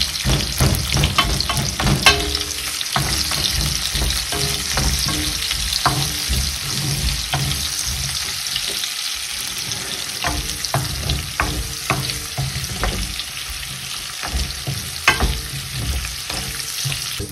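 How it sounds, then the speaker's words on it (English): Onions frying in a pan to soften, a loud continuous sizzle with frequent sharp clatter and scraping of a spoon stirring against the pan. "I want to soften the onions and then I'm going to add the other vegetables."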